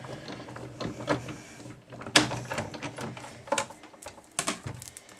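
A Sizzix BigShot die-cutting machine is hand-cranked while an embossing folder passes through its rollers, giving a string of uneven clicking and ratcheting mechanical sounds with a few louder knocks, close and fairly quiet, with no talking.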